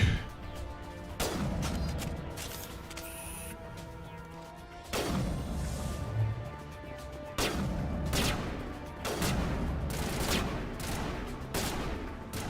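Bursts of gunfire from the video game Mass Effect: several loud volleys of rapid shots separated by short lulls, with sharp impacts and crashes mixed in.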